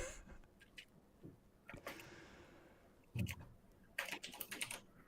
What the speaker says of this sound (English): It's a lot of typing over there